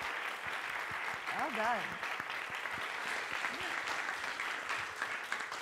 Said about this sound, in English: Can we please give our awesome panelists a round of applause?